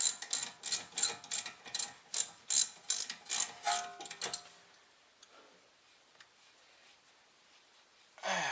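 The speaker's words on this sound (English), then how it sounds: "we use our 14mm socket once we get the wheel off. We're going to remove the caliper" A ratchet with a 14mm socket loosens the rear brake caliper bolts on a 2004 Mazda 6, making about a dozen close, rhythmic clicking bursts. Quiet follows, then a brief louder noise at the end.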